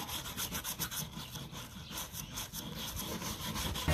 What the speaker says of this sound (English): So this is how you scrape all the old paint off the deck.